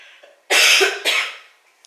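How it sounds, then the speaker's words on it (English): A woman coughs twice in quick succession, close and loud, with a faint rasp trailing after the second cough. "she's still interrupting me with her cough."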